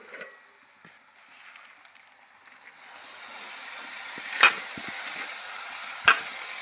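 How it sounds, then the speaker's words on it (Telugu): Gongura leaves go into a pan of fried chicken masala, and a soft background hiss jumps into steady loud sizzling, with two sharp clatters of a utensil against the pan. "ఇప్పుడు గోంగూర దీంట్లో పెట్టేద్దాం."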